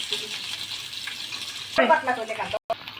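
Chicken pieces go into a pan with a little oil for homemade chicken pizza, a steady hiss turning into a louder crackling sizzle partway through, with someone talking over it.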